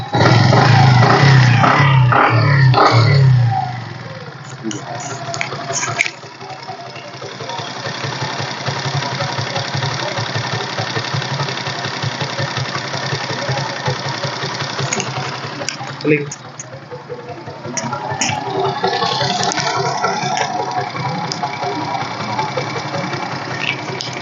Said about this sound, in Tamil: இன்ஜின் சூப்பராக இருக்குங்க. பஜாஜ் பிளாட்டினா.